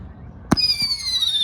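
A single Victoria Day firework explodes over a North York park with one loud crack, followed by a softer thud and a lingering high whistle that slowly falls away.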